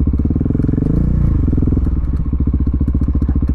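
A KTM motorcycle ridden off-road, its engine thumping in a steady rapid pulse with rising and falling revs, loud and close throughout, with faint clatter from the terrain.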